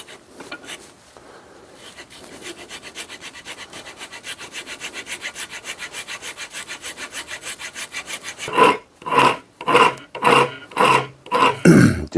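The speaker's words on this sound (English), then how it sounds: "Just using a really coarse rasp on here, trying to get the rough shape done" Coarse rasp shaping a wooden axe handle for a house axe, starting as a fast steady scraping run of strokes, then slowing into six or seven loud separate rasping pushes close by.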